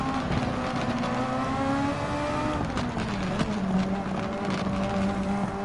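Super Formula race car engine in Gran Turismo 7 at Michelin Raceway Road Atlanta, droning loudly and steadily throughout, its pitch rising and dipping as the throttle is worked, with a brief tire squeal.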